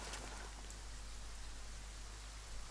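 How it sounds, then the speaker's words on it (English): Steady rain falls in Ghost Recon Wildlands, a soft, even hiss of drops that holds without a break and stays faint and distant throughout. "It's raining."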